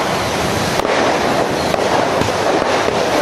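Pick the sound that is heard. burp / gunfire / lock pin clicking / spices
gunfire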